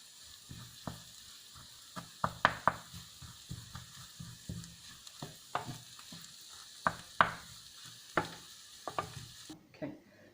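A truffle sauce mixture with chunks of salt cooking in a pan, a quiet low bubbling with irregular soft pops and clicks scattered across the clip, no talking.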